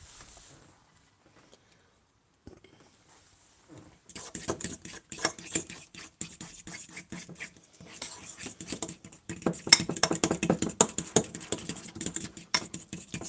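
A fork whisks carrot cake batter with pumpkin pie spice in a bowl, giving rapid, uneven clinks and scrapes that start after a quiet opening and grow busier and louder toward the end.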